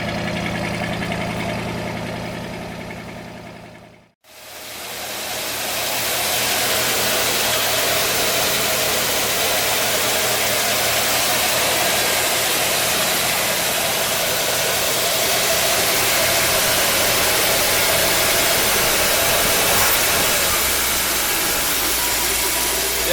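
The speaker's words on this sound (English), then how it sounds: "It idles so smooth once we got that intake leak figured out." A 1956 Cadillac Sedan DeVille engine idles steadily and smoothly after an intake leak was fixed, a constant close rumble with a brief dip near the start, no voices.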